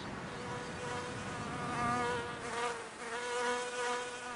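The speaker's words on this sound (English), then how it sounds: "watch the bee do the same, hitting the middle C note with the beat of its wings and unlocking the pollen" A bee buzz-pollinating a flower, its wingbeat vibration producing a steady tonal buzz near middle C that swells and fades twice, close and alone.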